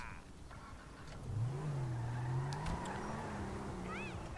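A car engine revs and drones at moderate distance in GTA 5, rising in pitch, with faint game effects and background noise.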